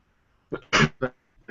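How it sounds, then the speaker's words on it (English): A few harsh, throaty coughs in quick succession, close and loud, with no other sound around them. "Sorry, I'm coughing so much."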